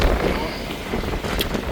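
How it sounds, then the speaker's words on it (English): Strong outdoor wind buffeting a handheld phone microphone near an old colliery power house and headstocks, a steady roaring rumble with gusts throughout, loud and close. "Nice and windy today."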